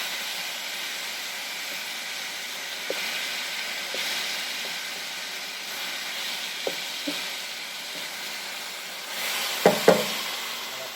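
Poultry strips browning in a pan on an induction hob, a steady soft sizzle with faint crackles and a couple of brief pops near the end, no voice over it.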